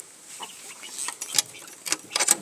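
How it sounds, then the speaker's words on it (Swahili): Scattered, fairly faint clucks and short calls from two guinea fowl and four chickens on a farm, with soft scratchy rustling between them. "Tuna kanga hapa 2 na kuku 4 hapo."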